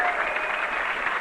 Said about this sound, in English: They're standing and applauding the champion